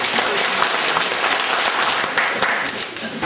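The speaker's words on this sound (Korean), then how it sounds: "다시 한번 감사드리면서 박수 한번 하셨습니다." Audience at a history and culture forum visit claps warmly, a bright crackle of many hands close by and sustained throughout, with faint voices underneath.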